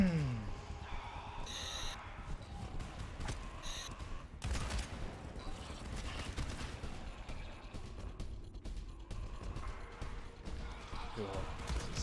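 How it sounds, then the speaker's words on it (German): Scattered gunfire in the co-op shooter GTFO, sharp shots and short bursts spread through the clip amid game noise, with players talking over it. "da unten schießen die auch"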